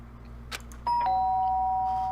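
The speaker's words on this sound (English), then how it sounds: "The sharp sound of the doorbell pierced my sleepy haze and pulled me back to the real world." Danganronpa video game doorbell: a bright synthetic ding-dong rings out near the middle, its second tone holding and ringing on loudly to the end above a quiet droning background, with no speech.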